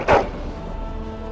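A single short dog bark rings out in the video game Dragon Age Origins, loud and close at the start, then fades into a quiet low background hum.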